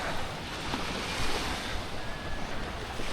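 Water flows steadily at a river near a beach in Playa del Carmen, a dense continuous wash mixed with wind buffeting the microphone, with no voices.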